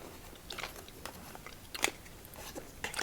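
Pork rinds (chicharrones) being bitten and chewed close up, a few sharp crunches spread over a few seconds, loudest near the middle, with no talking.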